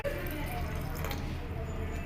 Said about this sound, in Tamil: அதுக்கு ரெண்டு டம்ளர் தண்ணி அளவு கலந்துக்கலாம்